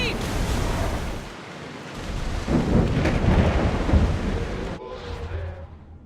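Thunder rumbles and rolls over heavy rain and wind at sea in Assassin's Creed Odyssey, loud and close, swelling midway with a big crack before easing, no voices.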